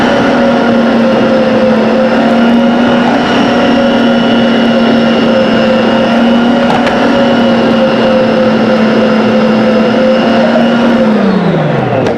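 A machine shreds potatoes for hash browns with a loud, steady motor whine and hum that runs evenly, then spins down at the very end, with no talking over it.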